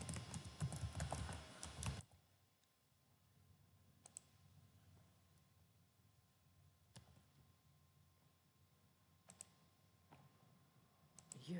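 Quiet keystrokes on a computer keyboard. A loud burst of rustling comes first, then widely spaced single clicks against a faint steady hum, with no talking.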